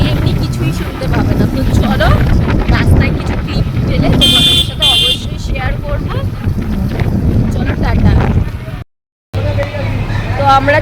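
Wind and road noise beside a road on the way to the Hatibagan market: a constant blustery rush across the microphone, with a person talking over it and a brief cut to silence near the end.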